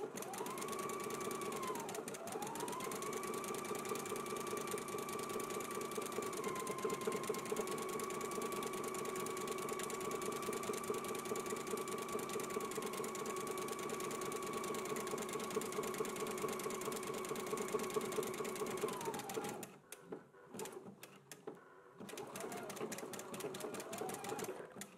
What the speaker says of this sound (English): Again, I will be doing a zigzag stitch.